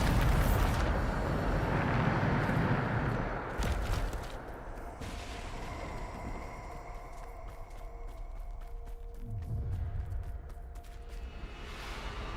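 The Bombarda explosion spell goes off in a Harry Potter video game: a loud, rumbling blast opens and slowly fades, with scattered crackles, then a second deep boom swells near the end.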